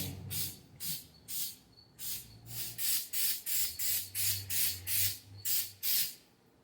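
Short bursts of an aerosol spray can coating a subwoofer box hiss repeatedly in quick, even pulses, about a dozen close spritzes with brief pauses between, laid on as light coats.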